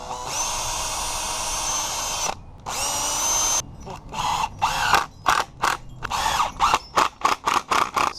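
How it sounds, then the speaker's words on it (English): A power drill drives screws into wood while building a homemade carpet knee kicker: a long steady whine, then a run of short rhythmic bursts as the driver stops and starts, close and loud. "now it's time to screw it all together"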